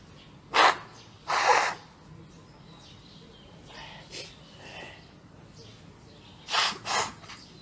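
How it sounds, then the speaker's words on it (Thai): A man with a cold blows his nose in several short, forceful bursts: two near the start and two more near the end, with quiet breathing and faint room sound between them. "ขออนุญาตสั่งน้ำมูกก่อนครับ"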